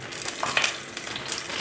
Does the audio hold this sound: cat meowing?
no